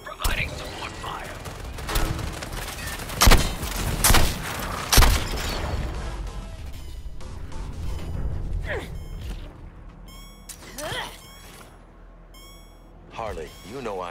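Support gunfire in the Suicide Squad Kill the Justice League video game, a run of sharp shots and bursts over a busy battle mix, with speech also heard in it.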